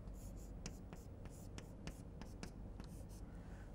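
A pen scratches out equations in a bisection method lecture, making faint, close, irregular taps and short strokes.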